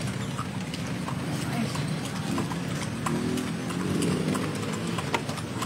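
A horse-drawn kalesa carriage rolling through Vigan, Ilocos Sur, with steady close clip-clop of hooves and wheel rumble throughout, and a voice talking over it at times.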